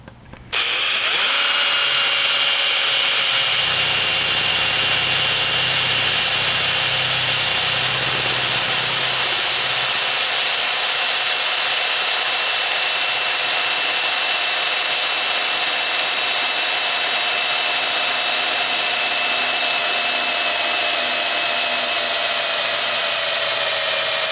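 Power drill boring 3/8-inch bolt holes through metal to mount a tractor umbrella, a loud continuous high whining motor that starts abruptly and holds steady for over twenty seconds, with a slightly rougher low grind early on.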